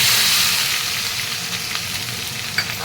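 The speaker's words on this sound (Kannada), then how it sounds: "ಹಾಕಿದ್ಮೇಲೆ ಸ್ವಲ್ಪ ಫ್ರೈ ಮಾಡ್ಕೊಳ್ಳೋಣ ಇದನ್ನು" Onions frying in oil with mustard seeds and cumin, a steady close sizzle with soft crackles and occasional stirring scrapes, no voices.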